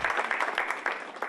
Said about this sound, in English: Which brings us back to the applause.